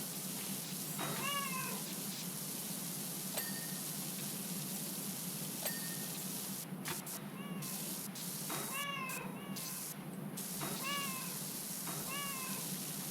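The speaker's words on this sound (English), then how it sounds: "just making the cats meow" Cartoon cats meow repeatedly in the video game Powerwash Simulator 2, short rising-falling mews in clusters over a steady hissing spray of a pressure washer, fairly faint.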